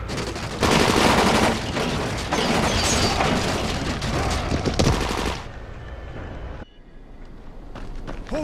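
Loud rapid gunfire from the video game Dying Light, dense overlapping shots and bursts in a sustained barrage for several seconds before cutting to quieter, sparser sounds.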